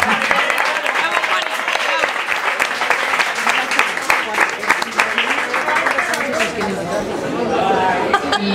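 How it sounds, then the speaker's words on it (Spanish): An audience claps steadily through a long round of applause at a singing performance, with chatter and voices mixing in beneath the clapping from start to finish. "Un aplauso para Juan."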